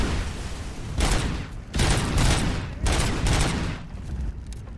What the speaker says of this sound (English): I can hear like fireworks